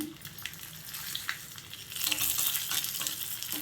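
Three dried red chillies frying in hot oil with lentils, a soft, continuous sizzle close by that grows busier and brighter toward the end, with no voices.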